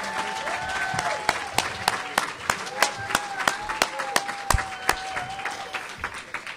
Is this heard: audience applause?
yes